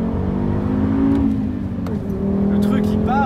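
Audi TT RS with its 2.5-litre turbocharged five-cylinder engine accelerating hard, a loud steady drone rising in pitch, with someone talking over it.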